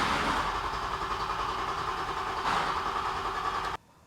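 A car engine cranks over steadily on the starter in a loud, rough, continuous churn during crankshaft position sensor testing, then cuts off abruptly near the end.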